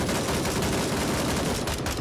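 Gunfire in the shooter Grayzone Warfare: a dense, sustained barrage of rapid shots with continuous crackling and rumbling, loud and close, with no voices.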